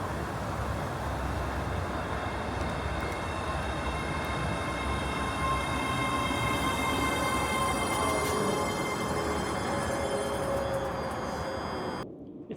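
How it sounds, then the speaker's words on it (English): A ScotRail Class 385 electric multiple unit train runs steadily, a loud continuous rumble with faint wheel squeal and whine, cutting off abruptly near the end. "It's a good job I got this Class 385 to the next railway station"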